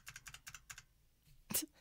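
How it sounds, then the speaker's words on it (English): Quick bursts of computer keyboard typing in The Stanley Parable: Ultra Deluxe, close and crisp clicks in rapid clusters, a short pause, then one louder final keystroke. "how you liking the keyboard ASMR?"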